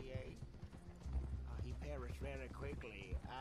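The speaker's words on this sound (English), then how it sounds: "Yeah, looks like Lucky's your loyal horse, man" Rhythmic clip-clop of horse hooves trotting in Red Dead Redemption 2, steady and moderately close, heard beneath someone talking over it along with game ambience.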